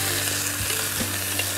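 Broccoli and red bell pepper hit a hot wok over a basket of coals at medium-high heat, giving a steady, close frying sizzle with a few stir-scrape bursts and no voices.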